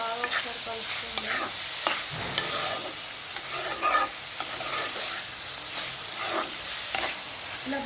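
Chopped tomatoes for a tomato curry stirred in a sizzling frying pan, with steady crackling and repeated scraping strokes of a spoon against the pan.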